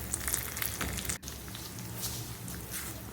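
Urad dal and fenugreek seeds fry in a pan with a steady, close crackling sizzle and scattered small pops, continuous throughout with one brief dip near the start.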